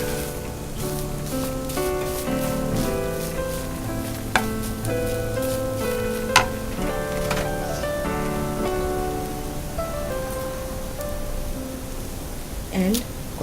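Chicken being tossed with spices, salt and chilli flakes in a hot pan for chicken podimas, with a steady sizzle running throughout and scattered stirring clatter. Several sharper knocks stand out near the middle, and there is no talk.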